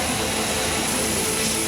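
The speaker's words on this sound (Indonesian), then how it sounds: "pesawat Super Hercules A1339 mendarat di Bandara Internasional Minangkabau" A Super Hercules A1339 military transport plane lands at Minangkabau International Airport in Padang, producing a loud, steady, broadband engine roar with a high whine and no talking.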